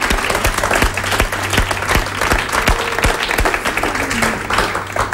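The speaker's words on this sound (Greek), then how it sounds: "Εδώ θέλει χειροκρότημα" Studio audience applause on a television show, loud rhythmic clapping from many hands with sharp individual claps standing out close by, continuous for several seconds.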